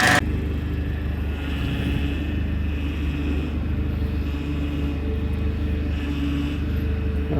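A turbocharged Chrysler PT Cruiser GT engine runs rough, a steady close low rumble after a sharp start, with a faint uneven hum over it.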